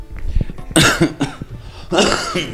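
A man coughs in several harsh, close bursts during an interview, with short pauses between each cough.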